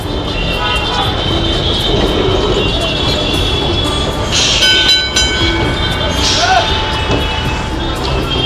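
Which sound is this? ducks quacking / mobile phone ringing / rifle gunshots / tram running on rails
tram running on rails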